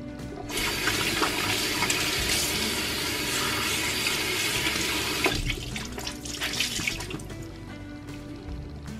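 A bathroom tap runs steadily while waiting for hot water from a distant heater, a loud, continuous rushing splash into the sink that shifts slightly in tone partway through.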